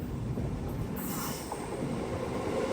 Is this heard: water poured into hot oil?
no